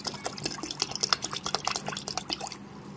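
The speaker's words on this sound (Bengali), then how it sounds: "এখন ঠান্ডা জল মিশিয়ে দিচ্ছি।" Cold water poured into a bowl of yogurt mixed with sugar, crushed cashews and salt for a homemade lassi, giving a steady close splashing trickle with small drips throughout, no talking.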